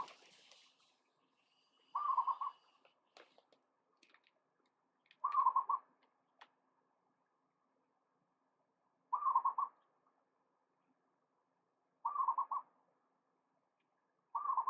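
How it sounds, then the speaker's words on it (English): Soft, low cooing calls of mourning doves repeat at intervals of a few seconds, each a short hollow phrase, with quiet pauses between. "We got a bunch of doves. Morning doves."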